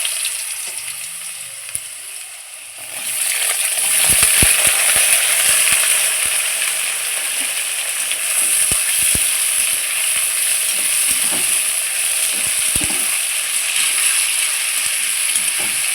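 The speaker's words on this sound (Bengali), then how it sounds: "আমার তেল গরম হয়ে গেছে শুকনো লঙ্কা দিয়ে দিলাম একটু কালো জিরা দিলাম এই আলুগুলো আমি ছেড়ে দিলাম" Potatoes drop into hot oil with dried red chilli and nigella seeds, and a loud, continuous sizzle with crackling pops starts after a short quiet moment and carries on steadily to the end.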